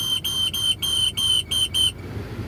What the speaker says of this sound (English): It's making some fucking noise. Some whistling noises.